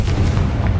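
A Confringo fire-blast spell in the Hogwarts Legacy video game bursts as a single dense, loud boom with a deep rumbling low end, filling a short moment with no voices.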